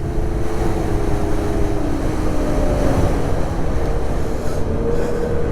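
Snowmobiles running along a forest trail near Cochrane, Ontario, on the first ride of the year, giving a steady, loud, continuous engine drone with shifting pitch throughout, and no talking.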